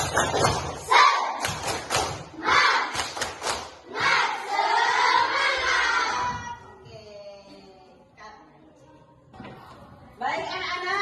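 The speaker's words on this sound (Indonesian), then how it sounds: "Sekarang kita tepuk semangat." Schoolchildren in a classroom perform the tepuk semangat clapping chant, with quick bursts of loud rhythmic claps followed by shouted group chanting, then a short lull before more clapping.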